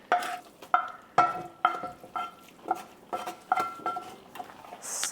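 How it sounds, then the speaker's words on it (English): A utensil stirs onions in a pot, producing a series of about ten sharp metallic scrapes and clinks against the pan in an uneven rhythm, close and moderately loud. "I'm gonna give it a stir"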